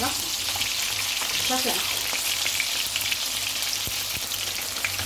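Chicken fries in hot oil and ghee with a loud, dense, continuous sizzle and occasional crackles; a voice speaks briefly over it.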